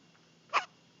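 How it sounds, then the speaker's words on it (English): A baby girl's single short hiccup, a soft brief burst close by in a quiet room. "got the hiccups"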